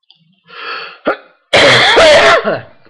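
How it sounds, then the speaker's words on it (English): A single loud, harsh cough bursts out after a brief throaty rasp and a short vocal noise, close to the listener. "got a bad cough"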